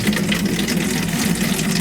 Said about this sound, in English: Turn the water on, hun.